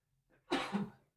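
A single short, sharp sneeze in a quiet room, with a faint intake of breath just before the burst, on its own.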